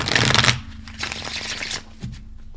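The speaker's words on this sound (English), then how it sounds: "Let's give that another shuffle." Tarot cards are shuffled by hand in a short, crisp burst of riffling, followed by softer card handling and light shuffling.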